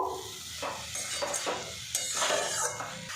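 Fried potatoes and cabbage being stirred in a pan, with steady scraping and clatter of a utensil against the pan over a soft sizzle, close and alone without speech.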